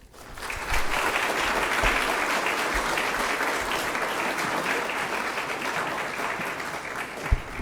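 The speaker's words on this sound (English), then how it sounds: "can we please give a round of applause and say thank you to Karen Keir." Sustained applause from a sizable crowd at a trails summit, dense clapping that swells quickly and holds steady for several seconds.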